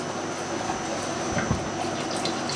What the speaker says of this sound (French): On va remplir avec de l'eau, chercher.